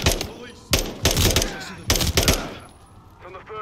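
Single-fire gunshots ring out in Modern Warfare III, three sharp, loud reports spaced about a second apart, each with a short echoing tail, followed by quieter background rustle and a faint voice.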